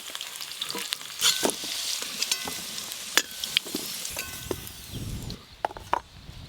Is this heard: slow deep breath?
no